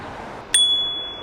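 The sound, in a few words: bicycle bell ringing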